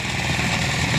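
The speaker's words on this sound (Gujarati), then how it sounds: "મશીનનું નામ છે રીપર" A reaper machine cutting a wheat crop runs with a loud, continuous engine drone and a buzzing mechanical whine, close by and steady, with no talking.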